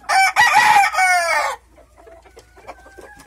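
A black ornamental rooster crows loudly and close for about a second and a half, followed by softer clucking from the hens with him in a pen at a bird-breeding ranch.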